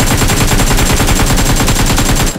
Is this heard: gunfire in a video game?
yes